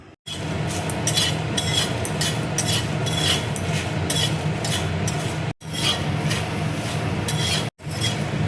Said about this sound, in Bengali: কড়াইয়ে দেখো লঙ্কা আমি দিয়ে দিচ্ছি। এগুলো আমি ড্রাই রোস্ট করে নেবো।